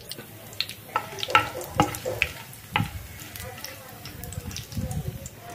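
Cumin seeds sizzle in hot oil with cinnamon, cloves and cardamom for a mushroom curry. There is a crackling, uneven sizzle with light stirring clinks close by, and a voice talks over it.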